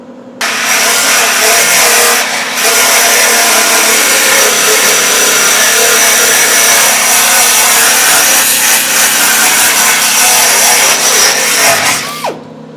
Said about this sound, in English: now I get to take all the undercoating off and strip the paint so I can get the welds to stick